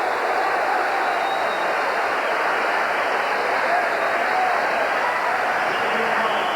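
A basketball arena crowd at the 1996 NBA Finals roars steadily after a foul, a dense, loud wash of cheering and clapping that continues unbroken.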